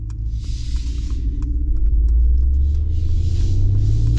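A 2025 Mercedes G580 electric G-Wagon driving under regenerative braking, a steady low rumble of road and cabin noise that swells louder midway, with a faint whirring hiss above, no talk.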